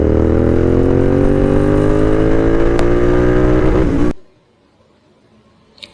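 A Royal Enfield Continental GT 650 twin-cylinder cafe racer rides through the city with a loud, steady, throaty engine note that rises slightly, then cuts off abruptly into near silence.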